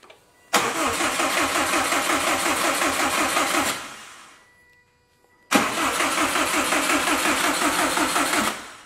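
A Subaru STI with a big turbo build cranks and fires twice: each time a sharp catch, then a loud, close, lumpy run lasting several seconds before cutting off, with a brief near-silence between the two starts.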